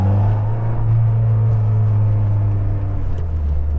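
A car with a close-ratio gearbox pulling hard in first gear, with a loud, steady engine drone and heavy low rumble holding at an even pitch throughout.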